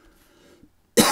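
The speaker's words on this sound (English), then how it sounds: "Sorry, I have a cough." A single sharp human cough bursts out after near silence, loud and close, with a few faint low sounds before it.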